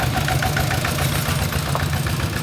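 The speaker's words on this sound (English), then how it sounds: "It's a long-tail tractor." A long-tail tractor in Vang Vieng, Laos, chugs steadily at idle with a loud, close, knocking mid-low rumble that carries on without a break.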